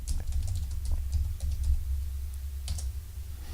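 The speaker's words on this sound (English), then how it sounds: "so I'll just type in Join Up Dots." Typing on a computer keyboard, entering a short phrase as a run of soft, quick key clicks over low background hum, close and steady with a small burst of keystrokes near the end.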